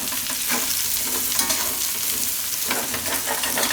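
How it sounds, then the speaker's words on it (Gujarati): Gram flour (besan) roasting in hot oil while being stirred in a pan for a Gujarati dahi cauliflower dish, giving a steady, close sizzle with scraping stir strokes throughout. "ચણાનો લોટ, બેસન. આમાં શેકી લેવું થોડુંક તેલમાં"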